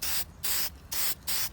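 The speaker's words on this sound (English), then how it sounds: "you get some automotive paint and then you just spray it" Automotive spray paint hisses from an aerosol can in three or four short, loud bursts, each about a third of a second long, with brief pauses between them. No one talks.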